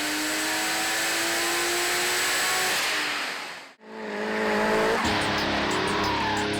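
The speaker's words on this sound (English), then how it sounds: "Drift Zone organised for some of Queensland's top drivers to put on some demos before the open drift sessions" Drift cars at a Queensland JDM car show scream past with loud, sustained engine roar and tire squeal, one pass fading out before another car screeches through close by.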